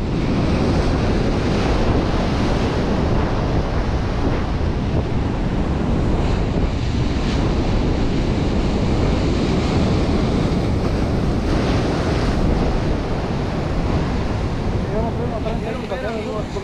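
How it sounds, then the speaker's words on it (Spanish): Rough ocean waves crash continuously with strong wind buffeting the microphone during a fishing trip at Sandy Hook, a loud, dense roar filling the whole stretch. "Miren estas olas cómo están."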